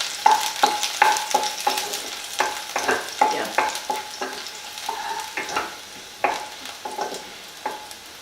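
Chopped garlic stirred and frying in a pan while preparing cheesy prawns, a steady sizzle broken by repeated scraping strokes of a utensil, close and moderately loud with no talk.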